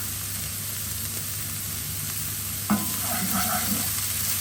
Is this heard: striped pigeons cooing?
no